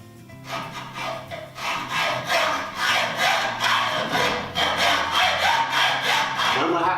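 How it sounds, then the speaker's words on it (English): Hacksaw cutting through a 4 mm metal tray held secure, a steady series of rhythmic rasping back-and-forth strokes, close and fairly loud, with a low hum underneath. "So first things first, we're going to cut using our hacksaw."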